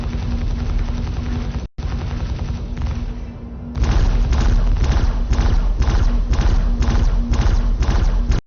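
Laser cannons firing in the space game Star Citizen, a loud run of rapid, evenly spaced heavy thumping shots that starts after a noisy stretch and keeps a steady rhythm.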